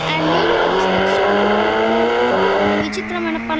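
A Supra sports car drives in the Indian Bike Driving 3D video game, its engine a loud steady drone with shifting pitch tones and a brief squeal-like burst near the end, game audio heard close.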